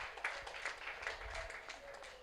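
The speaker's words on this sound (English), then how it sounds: "Please, a round of applause for her." Faint, distant applause from a crowd at a Nigerian Bar Association branch Human Rights Day event, an uneven spatter of clapping that holds steady for a couple of seconds.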